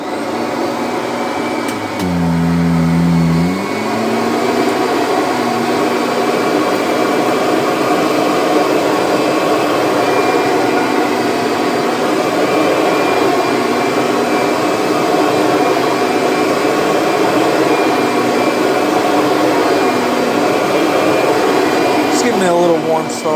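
Kirby Sentria vacuum cleaner starting up and running, a loud steady motor whine and airflow roar that holds constant for about twenty seconds, with a brief pitch dip near the start and winding down at the end.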